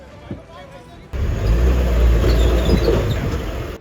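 A vehicle passes close by through a waterlogged, broken colony road in Mundka, Delhi, a loud rumbling swell that starts suddenly and holds, heard after a person talks.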